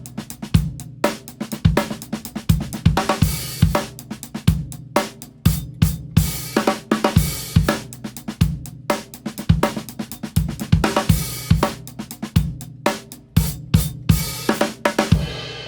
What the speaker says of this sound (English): So if I play you this funk groove,